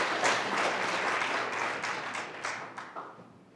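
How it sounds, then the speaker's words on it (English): A modest regional housing symposium audience claps for a speaker, a soft, fairly distant patter of applause that gradually thins and fades out with a few last scattered claps. "I'd like to begin with a round of applause for Stephanie Foster."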